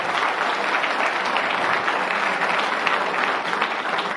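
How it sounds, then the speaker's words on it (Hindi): Crowd at an alumni meet and silver jubilee program giving loud, sustained applause, a thick, even wash of clapping holding steady from start to finish. "तो एक बार परिचय जाए अपनी जोरदार तालियों की गड़गड़ाहट का"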